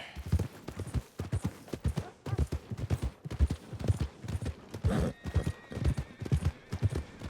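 Horse hooves clip-clop in a steady, uneven rhythm through Red Dead Redemption 2, moderately close and continuous, with faint voices and game ambience behind.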